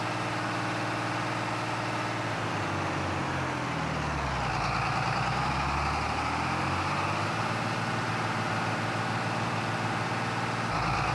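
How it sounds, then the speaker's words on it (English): A steady, loud tractor engine drones from an 8000 series tractor in Farming Simulator 25, with a low rumble holding throughout and shifting pitch slightly midway while it works a field. "this 8000 series tractor, gorgeous, beautiful"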